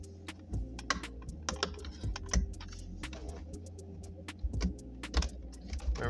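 A small plastic pry tool works at the plastic tabs holding the chrome ring on a 2006 Jeep Grand Cherokee climate control panel, making faint, irregular clicks and taps over a low hum, with no talking.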